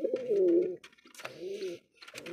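Pigeons in a breeding loft give deep throaty coos, two rolling calls close by with a short gap between, and the start of a third at the end.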